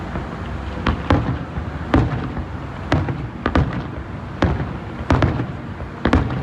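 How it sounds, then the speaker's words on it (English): A rapid series of sharp fireworks bangs, roughly a dozen blasts at uneven intervals, some close together, echoing with a rumbling tail. "Sounds like World War II there for a while."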